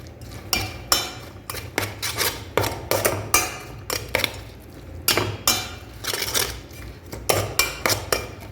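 Omelette batter with spring onion whisked in a bowl, a steady run of quick utensil clicks and scrapes against the bowl, fairly close and alone.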